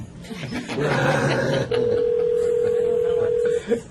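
Telephone dialing tones on a conference call line: a short burst of garbled noise, then a single steady electronic tone held for about two seconds before cutting off, fairly loud.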